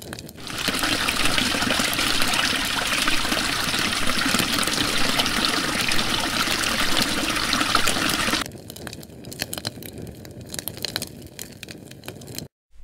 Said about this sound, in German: Und jetzt Wassermarsch. Ja, volle Kraft.